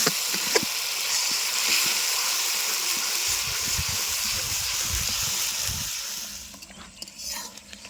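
Green chillies sizzle in raw oil for a kokila fish curry cooked outdoors on a riverbank, a steady broadband frying hiss that stays loud, then fades and turns patchy near the end.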